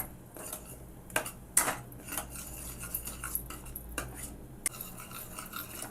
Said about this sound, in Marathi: आपला मसाला छान परतून झाला आहे.